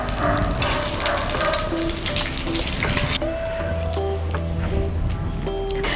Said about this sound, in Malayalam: കോവയ്ക്ക വറുത്ത എണ്ണ തന്നെയാണ് ഈ ഒഴിക്കുന്നത്